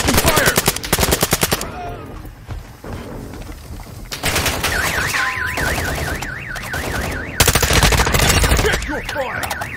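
Rapid bursts of automatic gunfire in the DMZ video game, loud and close, firing in repeated volleys, with a wailing alarm-like siren sweeping in the background between shots.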